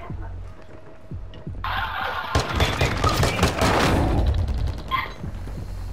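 Bursts of rapid automatic gunfire crackle loudly in Call of Duty: Modern Warfare II, with a quieter lead-in before a dense, sustained volley of shots.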